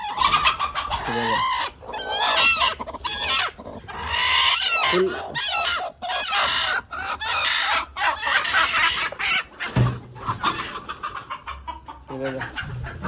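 A broody black hen clucks almost without pause in a backyard poultry coop, with the calls of other chickens mixed in. The sound is dense, busy and close throughout.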